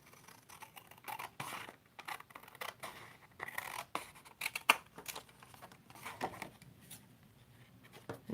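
Scissors snip through stamped craft paper in a string of short, irregular close-up cuts, with light paper rustling between snips and no speech.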